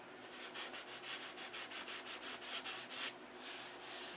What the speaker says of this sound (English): But we're sanding a little quickly.